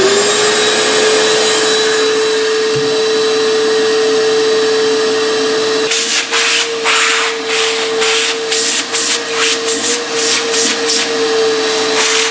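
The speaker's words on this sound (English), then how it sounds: "shop vac in there and see what happens." A shop vac runs steadily inside a homemade spindle sander table's built-in dust collection cabinet, a loud constant whine with no talk, and rapid rattling bursts join in over the latter half.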